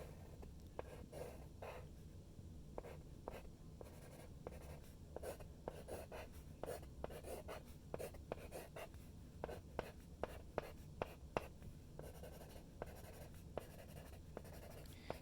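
Pen scratching on scrap paper while working a fractions math problem, a close series of quick, rhythmic strokes and taps with short pauses, no talking.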